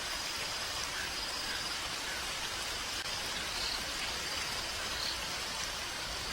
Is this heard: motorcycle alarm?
no